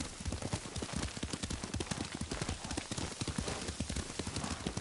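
Horse hooves clip-clopping in a quick, steady rhythm while riding in the samurai video game Ghost of Tsushima, loud and close, running continuously without talk.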